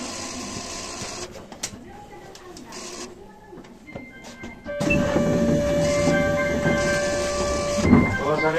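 Kintetsu 20 series express train with a Mitsubishi hybrid SiC-VVVF inverter running through from the Kyoto subway line: a rumbling ride with muffled onboard sounds, then a louder stretch with steady rising and falling inverter whine tones over the running noise.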